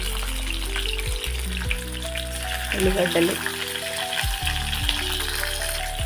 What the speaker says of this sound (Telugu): ఆయిల్ వేడైందండి. ఇప్పుడు ఇందులో ఉల్లిగడ్డలు వేసుకోండి.